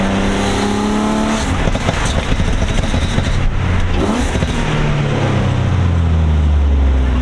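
A Nissan Altima SE-R with a new intake manifold pulls hard in second gear, its engine note rising loudly and steadily from inside the car.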